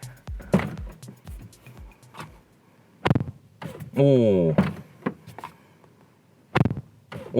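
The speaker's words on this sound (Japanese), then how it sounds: "じゃあちょっとドア閉めた音もねせっかくなんでやってみますかね。" Doors of a 2024 Mazda ND Roadster thud shut a few times, solid and close, with people talking around them.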